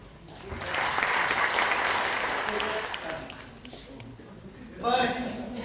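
Audience applause after a keynote address, a moderate burst of clapping that swells and then thins out, with people talking over and after it.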